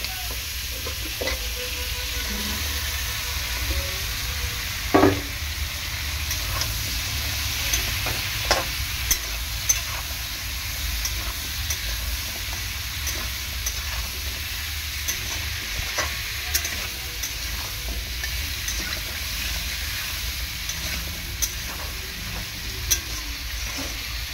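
Potatoes and pumpkin being stirred and sautéed in a pan with spices for labra, a long unbroken frying sizzle with occasional soft scrapes and taps of a spatula, close and even, no voices.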